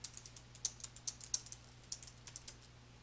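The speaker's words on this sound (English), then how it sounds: "type the text using your keyboard." Typing on a computer keyboard, a quick irregular run of light, crisp key clicks recorded up close and quiet, with no voices.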